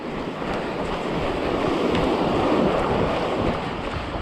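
A strong westerly wind blows across an open beach, roaring steadily into the microphone with the surf mixed in, loud and unbroken throughout.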